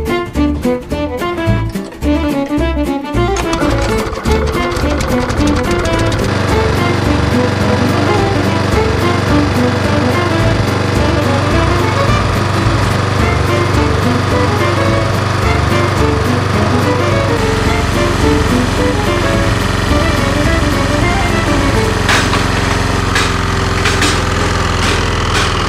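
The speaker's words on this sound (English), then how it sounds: "How long do you think it'll run for if this mower ran out of oil completely?" Petrol lawn mower engine running low on oil, starting up and then droning loud and close with a steady, rapid buzzing rumble for the full length, alone without talk.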